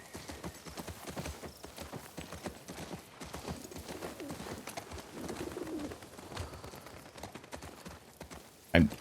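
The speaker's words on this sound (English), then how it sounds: "I heard the birds and" Soft cooing of doves or pigeons in The Last of Us Part II, in the background over a continuous patter of hoofbeats, ending with a sudden loud knock.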